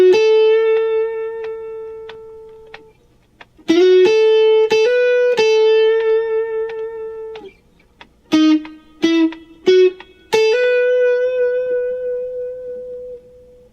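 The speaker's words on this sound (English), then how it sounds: "The riff for the B section will sound something like this." A B-section riff on electric guitar: single sustained notes with slides and bends, short clipped phrases separated by gaps, played close and clear with no talking.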